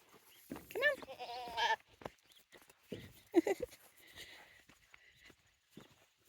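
Goats on a farm bleat loudly up close, two or three wavering calls in quick succession, then quieter rustling and footsteps with a soft voice speaking briefly.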